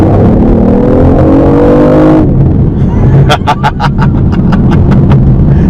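A BMW i8 plug-in hybrid accelerates hard, a loud rising engine whine climbing in pitch for about two seconds before cutting off, followed by rapid gear-change or exhaust pops and continued road rumble.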